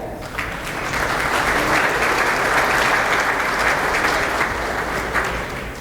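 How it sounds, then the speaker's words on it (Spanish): Sustained applause from a conference audience at a technical talk at Aquaexpo Guayaquil 2019, dense steady clapping filling the room loudly for about five seconds with no voices on top. "Por favor, aplausos para él"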